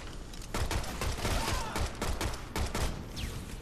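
Rapid bursts of gunfire from a basic starting gun in the Shadow Complex video game, a dense string of sharp loud shots firing in quick irregular succession, close and alone.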